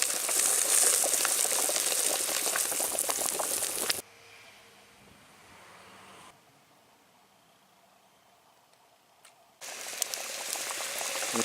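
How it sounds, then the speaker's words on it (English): Water boils in a double boiler while spruce resin balm melts in a container, giving dense bubbling hiss that drops away to quiet for several seconds in the middle, then returns at full loudness. "melt it in a container in the double boiler"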